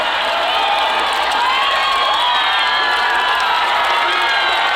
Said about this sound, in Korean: 환호가 너무 큽니다.